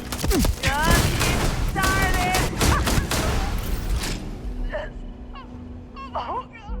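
Video game gunfire, a dense volley of repeated shots for about four seconds, loud and close, mixed with voices and game effects, then sparser tonal blips as the shooting stops.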